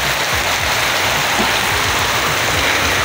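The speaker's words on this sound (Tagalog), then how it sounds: "Inabutan ng ulan tuloy." Steady rain pours down in a dense, close hiss, with pattering drops on a surface and no talking.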